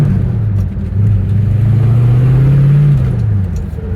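A 1966 Ford Fairlane GT with a 390 engine and four-speed manual accelerates close by, its loud steady drone climbing in pitch and then easing off near the end.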